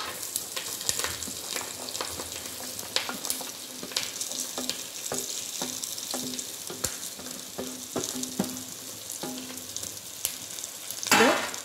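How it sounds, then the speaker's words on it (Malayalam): Small onions, shallots, sautéing in a pan with coconut pieces, a continuous sizzle and crackle broken by frequent sharp scrapes and clicks of stirring, with a louder burst of sizzling near the end. "ഇനിയും നമുക്ക് ഈ എടുത്തു വച്ചിരിക്കുന്ന കൊച്ചുള്ളി നമുക്ക് ഇട്ട് വഴറ്റണം."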